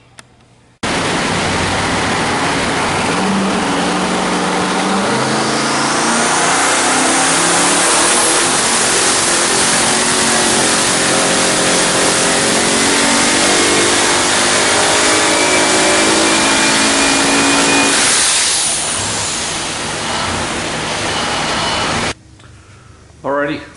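A twin-turbo Ford engine on 27 pounds of boost, with a Super Victor intake manifold and making around 1200 horsepower, roars through a full-throttle pull. The loud, sustained roar rises in pitch for about seventeen seconds, then drops away abruptly.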